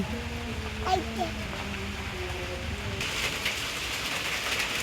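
Rain falls steadily outside a window on a dark day, a soft broadband hiss that thickens in the second half, with voices speaking over the first few seconds.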